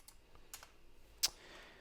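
Typing on a computer keyboard produces a few scattered, quiet key clicks with one sharper tap, close by and with no speech.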